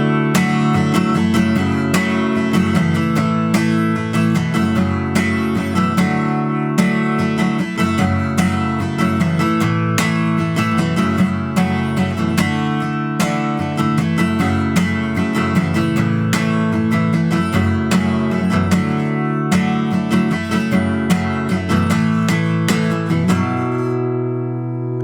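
Acoustic guitar strumming a song's chorus chord pattern, a steady rhythmic strum that continues for about 25 seconds and rings out at the end, with no talking.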